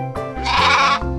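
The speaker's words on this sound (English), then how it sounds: "sheep," A single sheep bleats once, near and clear, a short wavering call lasting about a second with no other sound.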